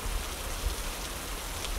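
Steady rain falls and patters on surfaces, a continuous even hiss with no other sounds standing out, soft and unbroken throughout.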